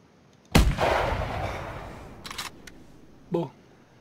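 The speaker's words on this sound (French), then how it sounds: "On va tirer dessus tout de suite." A single loud rifle shot fired at a leucistic reindeer in theHunter, a sharp close crack with a trailing echo, followed by a brief softer click.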